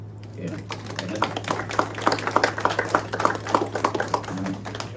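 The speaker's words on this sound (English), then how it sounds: "let's just give God a praise offering, a round of applause" A church congregation claps as a round of applause for a new deacon, with distinct, fairly loose claps from a modest crowd rising after a brief pause, a steady hum underneath and voices mixed in.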